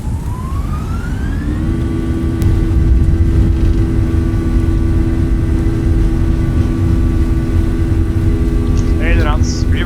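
An Airbus A320 in the Fenix flight simulator lands at Belgrade and engages reverse thrust. The engine whine rises in pitch, then settles into a loud, steady roar that holds throughout, with cockpit voices calling out over it.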